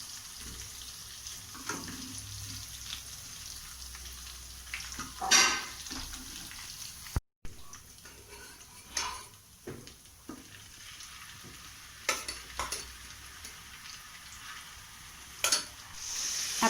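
Chicken pieces fry in a pan for butter chicken, a steady close sizzle with occasional scrapes and stirs of a utensil against the pan, no voices.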